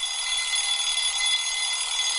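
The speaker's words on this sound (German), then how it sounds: "Chat, der Wecker." An alarm clock rings steadily and loudly throughout, a continuous shrill electronic tone with no gaps and no voices.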